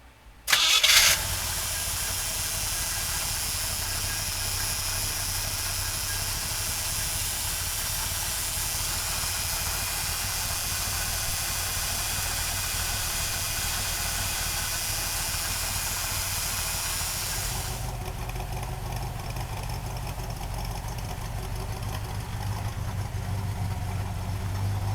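A 1966 Chevrolet Corvette convertible engine cranks briefly and fires up, then settles into a steady, loud idle that continues unchanged, with a high hiss dropping away partway through while the low rumble carries on.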